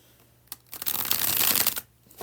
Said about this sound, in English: We're going to do the bridge shuffle